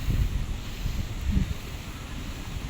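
Gusty wind blows steadily through fruit trees, including carambola (star fruit), in an outdoor yard, with low rumbling buffets rising and falling across the clip and no voices.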